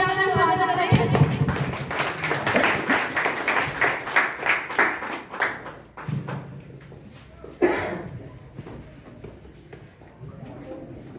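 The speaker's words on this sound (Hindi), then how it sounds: "तालियां बजाकर स्वागत करें।" Applause at a school Independence Day celebration welcomes a guest honoured on stage. Rhythmic, fairly loud clapping fades after several seconds into quieter room sounds and a thump, with voices in the background.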